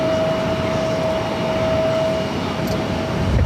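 An airliner takes off from runway 22 right at Boston Logan, its jet engines a steady loud roar with a sustained whine that fades slightly toward the end; no voices.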